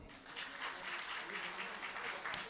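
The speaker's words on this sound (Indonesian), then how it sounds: "Tepuk tangan untuk Anda semua." Seminar audience at an auto sales training event applauding, a dense, steady wash of many hands clapping that holds at an even level for a couple of seconds.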